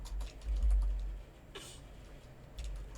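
Soft, quiet keystrokes on a computer keyboard as Python regex code is typed, scattered light taps with brief gaps and no voice over them.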